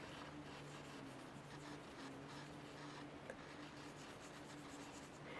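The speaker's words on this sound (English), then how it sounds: "I'm just barely pushing on the paper" Pencil shading a face with very light pressure on paper makes a faint, continuous scratchy rubbing under a quiet background hum.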